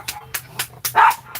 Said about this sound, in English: We're not barking.